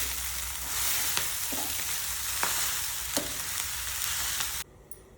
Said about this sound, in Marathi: परतायचं हरभऱ्याची भाजी टाकायची, परतून घ्यायचं।